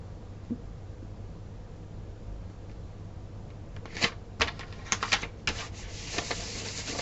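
Vellum paper is being cut for a mini album, heard as a few soft, crisp snips and rustles starting partway through, over a faint steady hiss, with no speech.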